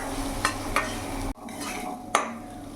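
Cauliflower and peas frying in a pan for a samosa filling, a low steady sizzle broken by several sharp clinks and scrapes of a spatula against the pan.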